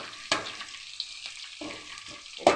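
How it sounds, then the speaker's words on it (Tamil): Spices and a bay leaf fry and sizzle in oil for mutton kulambu, with a steady close hiss broken by a few sharp scraping stirs. "கொஞ்சம் எல்லாம் தள்ளி விட்டு இதை நல்லா வறுத்து விட்டுலாம்."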